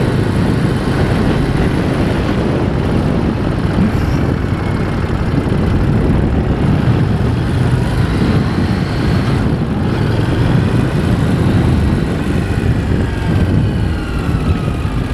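A 2017 Harley-Davidson Street Rod being ridden, a loud constant low engine rumble mixed with dense wind buffeting, steady throughout with no clear gear changes.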